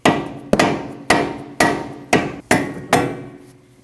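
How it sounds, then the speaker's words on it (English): Rubber hammer striking the steering knuckle of a 2013-2019 Ford Escape 1.5L during front CV axle replacement: seven sharp, evenly spaced blows, each ringing briefly, close and loud with no talk. "You can hit your knuckle with a rubber hammer to release the pressure."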